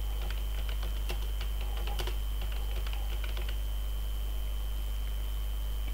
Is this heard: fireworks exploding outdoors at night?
no